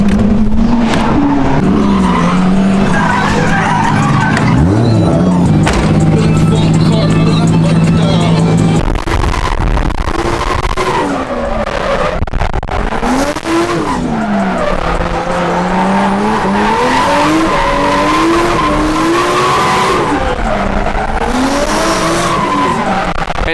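A car drifting at a practice session, with loud, sustained tire squeal and a revving engine whose pitch rises and falls as it slides, heard up close with a voice faintly underneath.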